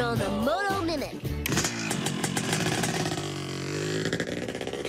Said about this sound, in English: Sounds like a motorcycle gang